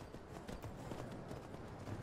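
Horse hooves clip-clop in a steady, continuous rhythm while riding in the video game Skyrim, a fairly quiet patter with a low rumble of game ambience beneath.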